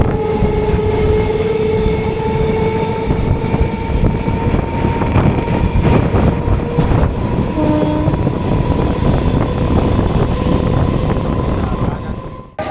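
Crowded Canning local passenger train running on a rainy day, a loud continuous rumble with steady wheel clatter and sustained tonal whine, a brief horn-like tone mid-way, close and constant until it drops off at the end.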